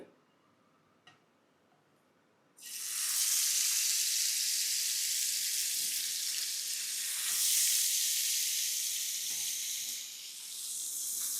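Paneer shashlik hits hot oil in a frying pan after a couple of quiet seconds, breaking into a loud, dense, continuous sizzle with faint crackles that holds to the end, with no talking.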